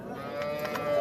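A dairy cow at the Loyish livestock market in Oqdaryo, Samarkand, gives a long, close, resonant moo that holds for about a second over faint background noise.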